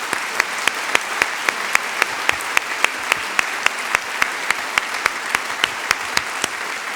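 An audience claps steadily at a choral arts humanitarian award event, a sustained round of applause with a few sharp, evenly spaced louder claps standing out near the front.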